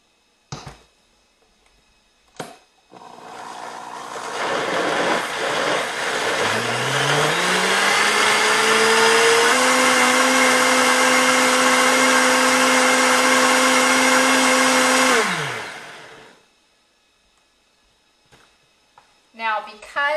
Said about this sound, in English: put that in our blender and blend it until it is smooth